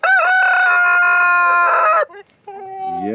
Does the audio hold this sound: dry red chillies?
no